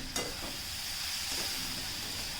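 Chopped onion fries in a pan with a steady, dense sizzle, close and continuous, as it browns to a pinkish-red for a Maharashtrian bitter gourd dish, with a brief clink of stirring near the start.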